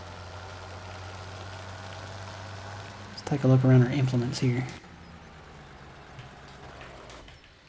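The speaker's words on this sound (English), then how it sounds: "Turn the engine off to save fuel." A truck engine idles in Farming Simulator 17, a steady low hum running throughout with a brief louder burst in the middle while someone talks over it.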